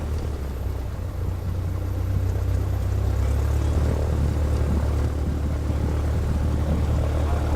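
A Zenith 801 small propeller aircraft, in a Mozambique park setting, drones steadily with a constant low engine hum that holds near and even throughout, with no voices.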